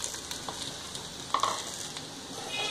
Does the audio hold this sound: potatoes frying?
yes